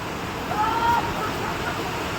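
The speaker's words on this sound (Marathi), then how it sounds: "हा समोर वॉटरफॉल, एकदम ब्युटिफुल वॉटरफॉल आहे" Umbarde (Bhaskar) waterfall near Nashik in monsoon flow gives a steady, unbroken broadband rush of falling water, fairly close and even in level throughout, with a brief faint tone drifting over it midway.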